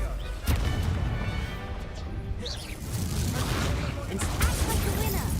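Confringo blast spells explode in Hogwarts Legacy: a sharp booming crash near the start, a rumbling crackle that keeps going, and another impact near the end, with heavy game noise throughout.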